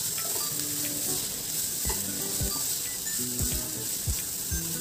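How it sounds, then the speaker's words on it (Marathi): Mixed ingredients for a quick Marathi breakfast snack sautéing in a pan give a steady close sizzle, with occasional soft scraping knocks as they are stirred, and nobody speaks. "हे आपले सर्व जिन्नस परतून झालेले आहे."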